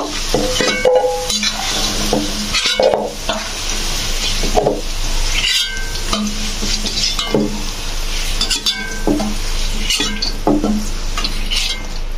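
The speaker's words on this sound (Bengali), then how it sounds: "এবার এই তেলের মধ্যেই এবার আমরা তেজপাতা, জিরে, গোটা জিরেটা আর শুকনো লঙ্কাটা একটু ফাটিয়ে" Bay leaf, whole cumin and dried chilli hit hot oil in a pan, giving a continuous close sizzle and crackle broken by scattered clinks and scrapes of a utensil.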